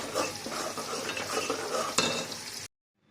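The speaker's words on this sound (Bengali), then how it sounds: "তো কাস্টার্ড পাউডারটা দিবার পরে নাড়তে হবে, নাহলে তলায় ধরে যাবে।" Custard powder being stirred into milk in a pan, giving close, steady scraping and swirling with faint utensil clinks for several seconds before stopping abruptly.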